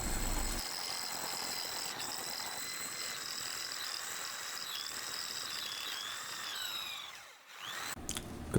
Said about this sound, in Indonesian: Karena besinya tadi lumayan tebal, jadi bornya ini agak kewalahan ini guys untuk nembus besinya itu.